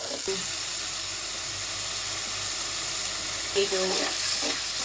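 Tomato paste sizzles and fries in hot oil in a pan while cooking fish curry, with a steady hiss, interrupted briefly by a couple of faint clinks near the start and end.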